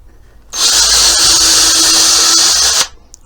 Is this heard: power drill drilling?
yes